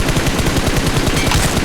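Rapid, dense automatic gunfire from a rifle in the battle royale game PUBG, a continuous loud burst of closely spaced shots with no pauses across the whole moment.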